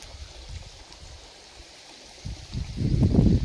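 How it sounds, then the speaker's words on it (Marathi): Water flows through a field irrigation channel with a low, steady gurgling rush that swells louder toward the end. "चालू पाणी"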